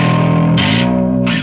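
Bass guitar run through a distortion effect in the Amplitube 5 amp-simulation software: a loud, sustained, fuzzy, saturated tone with two brighter bursts of attack, heard alone with no talking.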